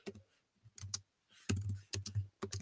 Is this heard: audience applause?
no